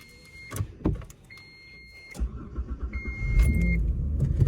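A five-speed manual car with a quick-release steering wheel, not yet started that day: a few clunks and key sounds, then the engine cranks and catches into a steady idle up close.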